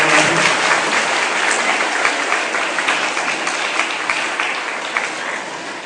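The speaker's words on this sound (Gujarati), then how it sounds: "તાળીઓના ગડગડાટને આપણે" Steady applause from an audience at a community honouring ceremony during a free medical checkup camp, sustained even clapping that holds loud and dense throughout, slightly fading at the end.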